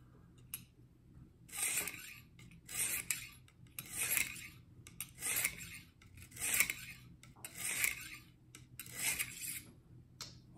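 A broadhead is sharpened on a medium sharpening stone with about seven rhythmic rasping strokes, evenly spaced and close, each a harsh scraping swish with short pauses between.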